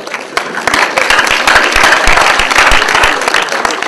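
An audience bursting into applause, dense clapping from many hands rising quickly and holding loud and close for a few seconds before easing slightly.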